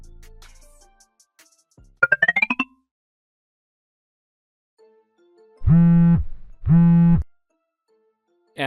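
A phone rings in an animated family drama: two long, buzzy electronic rings sound close and clear in near silence, after a short burst of voice.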